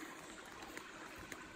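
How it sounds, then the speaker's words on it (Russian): Spring-fed water trickles steadily through a small stream, a soft, even babble with no breaks and a couple of faint splashes, quiet and close by with no voices. "Это вот с родника вода течет."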